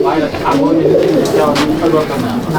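Pigeons coo steadily in a loft at Jangipur, Murshidabad, a continuous low murmuring that fills the space, with someone talking over them throughout.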